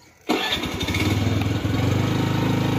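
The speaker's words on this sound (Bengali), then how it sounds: "চাবিটা অন কর, গাড়ি স্টার্ট দিচ্ছে" A scooter engine cranks and catches, then settles into a loud, steady running rumble close by after a brief quiet start.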